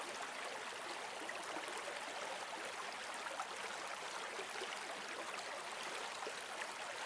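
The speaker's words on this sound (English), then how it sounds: "and the sound of the river" A river stream flows through a forest, a steady, even rush of water that holds at the same level throughout with no voices.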